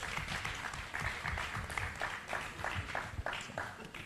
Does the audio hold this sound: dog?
no